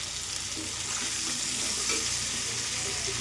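Sliced potatoes, cut into long thin strips with salt and turmeric, fry in a pan, giving a steady, close broadband sizzle with faint stirring scrapes throughout, no talking.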